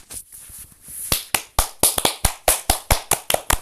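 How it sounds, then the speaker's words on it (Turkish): A few people clap in a sparse, uneven rhythm, with individual sharp claps close by, building from scattered hits to a steadier patter. "Evet hemen alkışlayalım."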